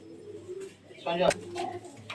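Madras pigeons coo softly nearby at a pigeon sale, a couple of low throaty calls rising in the middle, with faint voices murmuring in the background.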